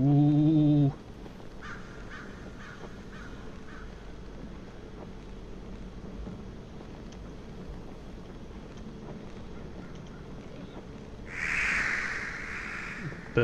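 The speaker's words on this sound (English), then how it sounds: "Birds." Crows cawing in a spooky forest in the video game DON'T SCREAM: a short burst of calls at the start, then a low wind-like ambience, with a louder, brighter cry rising near the end.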